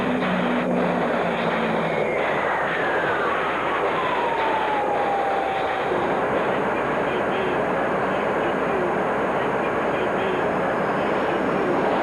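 Grumman A-6 Intruder jet aircraft in flight, a steady loud roar of jet engine noise with a falling whine sweeping down through the first seconds, no talk.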